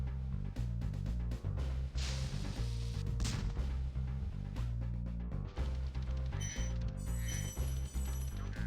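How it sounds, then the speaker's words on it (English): A cannon fires repeatedly in Spyro the Dragon on PlayStation 1, with booming shots and clinks set against loud looping game music and effects. "I always like taking these guys out with the cannon"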